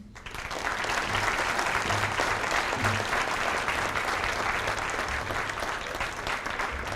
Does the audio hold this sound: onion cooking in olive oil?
no